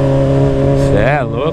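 Honda Hornet motorcycle engine idling close by with a steady, deep, loud drone, briefly blipped higher toward the end while someone speaks over it.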